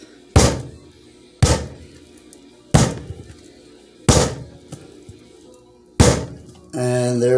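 A homemade big bar of soap is banged on a solid counter or table, giving five loud, evenly spaced heavy thunks, then a brief voiced tone at the end.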